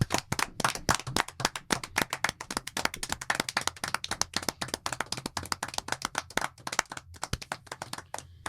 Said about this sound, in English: 10-second clap